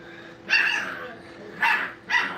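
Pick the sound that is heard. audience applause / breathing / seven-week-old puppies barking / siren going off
seven-week-old puppies barking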